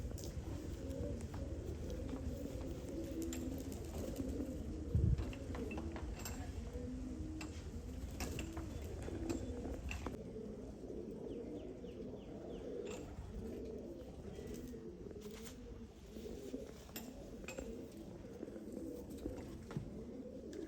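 Blue-patterned pigeons coo almost without pause, a soft, low, overlapping warble from several birds at once, steady throughout with one brief knock partway through.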